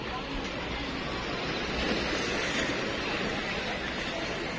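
Steady seaside wash of waves and wind at Victoria Harbor, a broad continuous rush with a gentle swell in the middle and faint background murmur.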